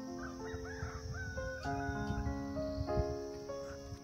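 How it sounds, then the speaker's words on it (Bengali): A rooster crows at a distance in a hill homestay setting near a monastery, a single drawn-out call heard faintly over a steady bed of insect and cricket buzz. "দূরে মোরগের ডাক"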